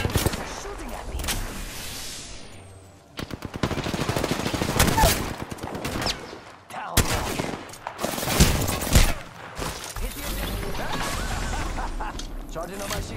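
Gunfire in the Apex Legends video game comes as rapid automatic bursts and single loud shots, close and dense, broken by brief pauses, with a voice speaking between the shots.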